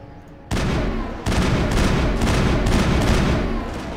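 Sustained automatic weapon fire from behind cover in the video game Mass Effect, a loud close burst that starts abruptly, pauses for a moment, then resumes as a long, continuous rattling volley.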